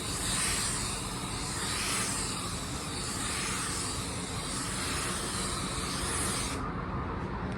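A spray gun lays a paint coat across a car hood, a loud continuous airy hiss held close for several seconds before cutting off abruptly near the end.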